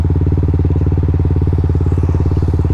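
A motorcycle rides over a rough, flood-damaged road in Talisay and Laurel, Batangas, its engine a loud, steady, close thumping pulse throughout, with a faint rattle on top.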